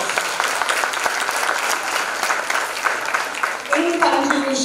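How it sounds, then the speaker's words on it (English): A school exhibition audience claps in a broad, sustained round of applause, steady and fairly loud, with a voice coming in near the end over the clapping. "Please give them a loud round of applause."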